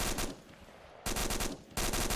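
Bursts of automatic gunfire rip out in a military-style game firefight, with two loud sustained volleys separated by a quieter stretch of rattling shots.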